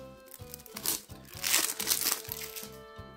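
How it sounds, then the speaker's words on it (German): A Yu-Gi-Oh! structure deck being unpacked, its plastic wrapper crinkling and crunching in close, steady handling, under a faint background melody with no voice heard. "Wir wollen es ja eh bauen, dann müssen wir es eh auch auspacken."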